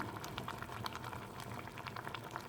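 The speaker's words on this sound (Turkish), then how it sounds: "Şimdi burada benmari usulü eriteceğim onu." Coconut oil melting in a bowl over a bain-marie water bath, with a close, steady bubbling simmer of the water, soft and continuous with small pops throughout.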